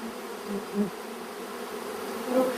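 Honeybee workers buzz at the hive entrance while cleaning out debris, a steady low droning hum with a couple of louder passes from bees flying close to the microphone.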